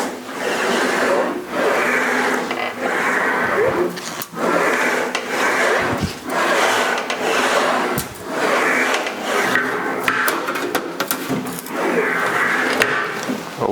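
Sheet metal for a 1956 Chrysler Windsor quarter panel section stretched along its back edge by machine, a steady grinding rasp that repeats in rhythmic passes with short pauses between, close and loud.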